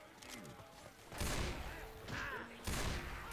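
Bursts of gunfire from Left 4 Dead 2 come in loud broadband blasts at roughly one-second intervals, mixed with game noise and brief background voices.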